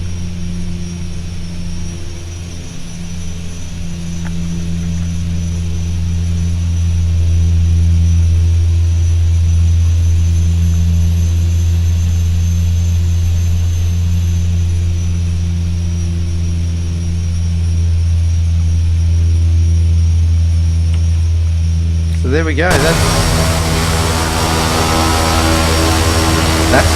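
A Carenado B200 King Air's twin turboprop engines drone loudly and steadily in the X-Plane 10 flight simulator, with a high whine above a deep hum. Near the end a brief spoken remark cuts in and a burst of broadband noise follows.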